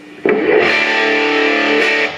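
Electric guitar played through a homemade clone of an MXR Distortion Plus pedal set for mild, subtle distortion and slight boost: a sustained ringing chord struck once and held, fairly loud and alone, with a brief re-strike near the end.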